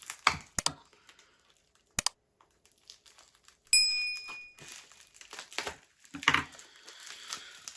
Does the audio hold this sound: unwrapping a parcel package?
yes